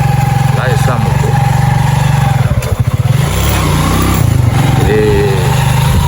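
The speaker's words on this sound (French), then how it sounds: "Et je suis en train de sortir en moto." A motorcycle engine runs steadily while riding out of a residential neighborhood in Yassa, Douala, a low, even drone that stays close and loud with a brief rough burst midway.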